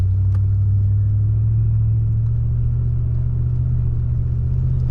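A Land Cruiser 4WD in third low around 2000 revs climbs a hill of wet beach sand in the rain, its engine a loud, steady low drone with a deep rumble and no wheel spin.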